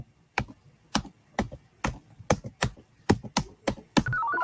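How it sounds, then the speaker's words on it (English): Keys on a computer keyboard clack in sharp, separate strikes, about a dozen loud close taps at an uneven pace, followed by a brief electronic tone at the end. "I think you're typing too fast."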